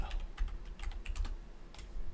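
Fingers typing on a freshly cleaned computer keyboard, a quick uneven run of close clicking keystrokes in short bursts.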